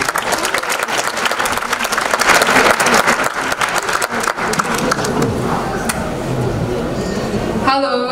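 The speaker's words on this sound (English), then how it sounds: "Now please give them a round of applause." Loud audience applause at an international festival celebration as a dance group is introduced, dense clapping and crowd noise filling several seconds before tapering off.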